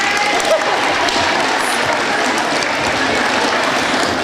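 An audience at a middle school celebration applauds, a loud, continuous wash of many clapping hands that holds steady without pause.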